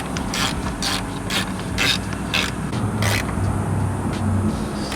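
A ratchet wrench with a 12 mm socket clicks through repeated bursts while tightening a bolt on a Volkswagen MK8 Golf R. The rapid pawl clatter comes up close, over a low mechanical hum.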